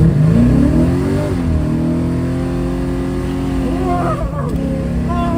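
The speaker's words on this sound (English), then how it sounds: "I got my first successful trip with the 482 cubic inch big block Olds" A 1971 Oldsmobile Cutlass S restomod with a 482 cubic inch big block Olds V8 idles and revs up, its deep, loud engine rising and falling close by throughout.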